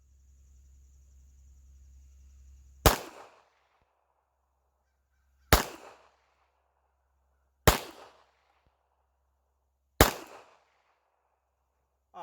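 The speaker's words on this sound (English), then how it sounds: "Usually what I do after that, I take a couple of shots with my actual carry ammo just to confirm." A Sig P365 XL pistol fitted with a Holosun 507K sight is fired with carry ammunition: four loud, sharp, separate shots spaced a few seconds apart, each with a short ringing decay, and no voices.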